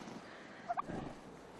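Three turkeys on a Victorian-era farm give a short burst of gobbling, two quick warbling calls close together in the middle, faint over a low background of outdoor noise.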